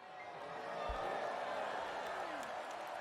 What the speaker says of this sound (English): You emerge from beneath the tree to the sound of thunderous applause